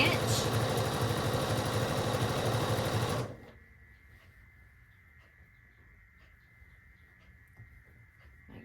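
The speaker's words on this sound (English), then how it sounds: "We're just going to sew down through here 1/4 inch." A sewing machine runs steadily as it stitches a quarter-inch seam on a jelly roll twist quilt made from precut strips, a loud continuous mechanical hum for about three seconds. It then stops abruptly, leaving only a faint background.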